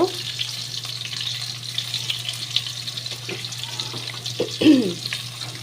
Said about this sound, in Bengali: এবার এই দিকে দেখো আমি আলু ভাজি